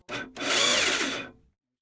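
A brief power-tool whir from a Rikon 10-305 band saw blade running, its upper guide bearings set too far out and hitting the blade teeth, with a short stop-start before a steady rasping run that cuts off cleanly.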